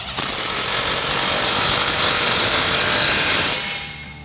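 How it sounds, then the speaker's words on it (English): A 15mm socket tightens an exhaust clamp on a Jeep Wrangler JK Flowmaster cat-back exhaust, a continuous loud buzzing rattle like an impact or power tool that runs for about three and a half seconds and then stops. "Now we can tighten down our clamp using a 15mm socket."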